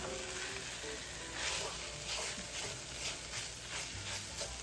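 Mongolian beef ramen noodles and meat get tossed in a pot over steady, loud sizzling, with rhythmic stirring and scraping strokes cutting through the frying hiss.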